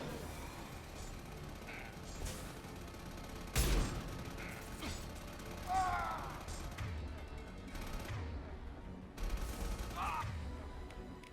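Shotgun blasts in Mass Effect 2 ring out as a few sharp, separated booms during a firefight, mixed with game effects and a brief voice in the background.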